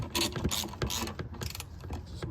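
A ratchet works on the throttle body bolts of a 2007 Yukon Denali, irregular close-up clicks and metallic creaks in several short bursts with no talking.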